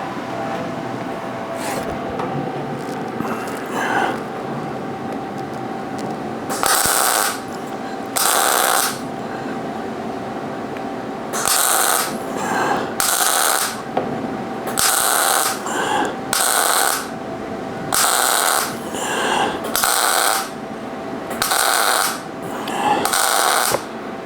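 MIG welding on a steel V block, with bursts of crackling, buzzing arc that start and stop in a steady rhythm of short welds. The work is close and loud, with quieter mechanical clicks in the gaps.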